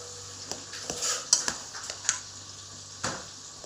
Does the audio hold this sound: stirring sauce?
yes